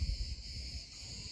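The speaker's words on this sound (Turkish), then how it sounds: "Bunlar cırcır böceği" Crickets chirp in a steady high-pitched drone outdoors at a holiday spot in Bodrum, continuous and moderately loud under light wind noise, with no talking.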